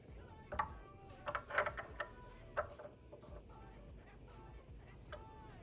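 A wrench snugging down the nuts on replacement guitar tuners, faint scattered metallic ticks and ratcheting clicks in short clusters, quiet and close, with a little soft speech.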